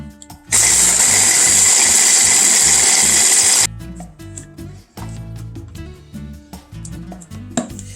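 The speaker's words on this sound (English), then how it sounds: "It's a handy dandy little food processor." A small food processor chops pecans in one loud, dense whirring burst of about three seconds, then stops, followed by scattered clicks and knocks of the bowl and lid.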